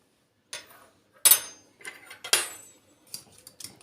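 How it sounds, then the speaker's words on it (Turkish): Yogurt and salt being whisked in a bowl for water börek dough, heard as a handful of sharp, bright utensil clinks and scrapes against the bowl, close and sparse with quiet gaps between strokes. "Bunları güzelce bir çırpayım"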